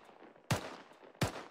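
Two loud single gunshots in Havoc 4 - Gunner, about 0.7 seconds apart, each a sharp blast over a low background of game ambience.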